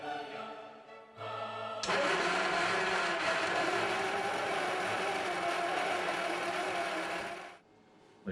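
A 1960 Triumph Herald engine, its water pump seized, cranks and turns over with a loud steady mechanical churn that holds for several seconds before cutting out.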